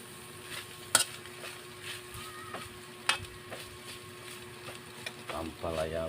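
Bitter gourd (ampalaya) and egg fry in a pan with a constant low sizzle, broken by a few sharp utensil clinks against the pan and a rougher stirring burst at the end.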